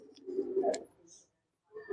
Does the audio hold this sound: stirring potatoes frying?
no